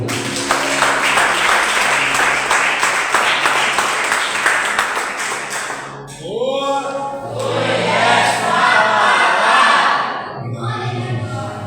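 Congregation at an evening family church service claps and cheers, dense rhythmic applause for about six seconds, then a looser mix of clapping, voices and music.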